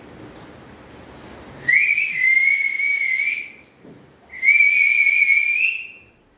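A person whistles a drawn-out, wavering high tune as a 60th birthday greeting, in two long sustained phrases separated by a short pause, close and clear against a quiet background.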